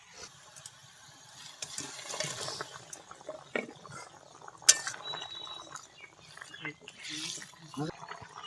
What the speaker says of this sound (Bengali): গ্রেভিটা ফুটছে